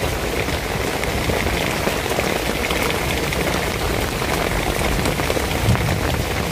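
Heavy rain pours down in a dense, unbroken roar, loud and constant throughout with no voices.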